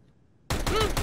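Warning shots ring out in a Counter-Strike match, a sudden loud burst of rapid gunfire after near silence, several sharp cracks close together and close up.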